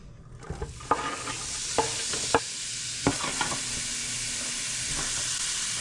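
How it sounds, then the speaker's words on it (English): Onions frying in a couple of tablespoons of hot oil, a steady bright sizzle throughout, with occasional sharp clicks and taps from a utensil moving them around the pan. "Okay, we're gonna fry our onions now."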